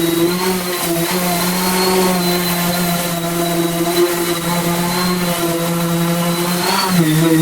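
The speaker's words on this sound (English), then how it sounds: "I'm going to use a random orbital sander" A random orbital sander works a breezeway floor before an epoxy coating, giving a loud, steady motorized whine with a sustained hum that holds evenly throughout and dips slightly near the end.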